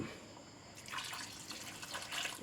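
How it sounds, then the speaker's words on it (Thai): Water trickles and splashes into a pan of beef-skin panang curry, a soft pouring sound that starts partway through and runs steadily to the end, fairly close and gentle. "หยอดน้ำสักน้อยครับ"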